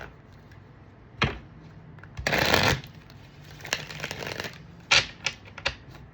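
Crisp bursts of tarot cards being shuffled, a few riffles and snaps with one longer flurry in the middle, close and fairly loud with no talking.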